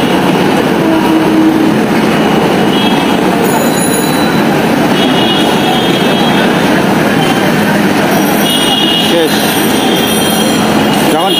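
A train passing near a flyover in Malibagh, Dhaka, a loud continuous rumble of wheels on rails with squealing and rhythmic clatter, joined by road traffic noise throughout.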